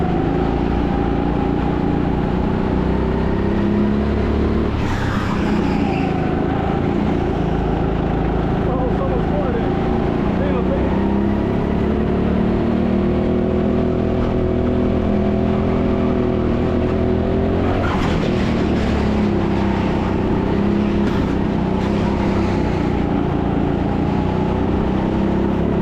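Go-kart engines drone steadily at TeamSport Sheffield during a kart-swapping GP2 race, the pitch rising and falling through laps. A kart with a throttle issue hums loudly and continuously, and a voice talks over it at times.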